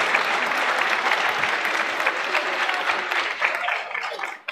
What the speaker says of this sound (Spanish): Fuerte el aplauso para su compañero